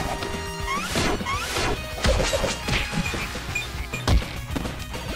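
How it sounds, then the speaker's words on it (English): Crashing and thwacking impacts from a video game ring out in quick irregular bursts, with whooshes and breaking clatter layered over game music and effects. "Excuse me, I'm busy smashing things."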